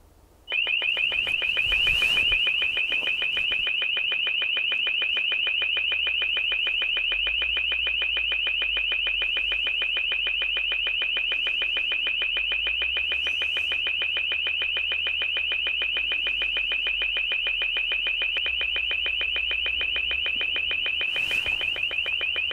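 An LRAD acoustic device blasts a loud, piercing, continuous alarm tone that starts abruptly after a brief quiet moment and holds steady for about twenty seconds without pause.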